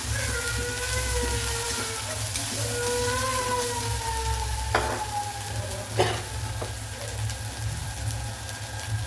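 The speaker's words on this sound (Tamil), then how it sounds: "போட்டு நல்லா டீப்பாக ஃப்ரை பண்ணிக்கோங்க ஆயிலில்." Masala paste deep-fries in oil for mutton kudal (intestine) fry, a close, steady sizzle broken by a few sharp clinks of stirring, with a low hum beneath.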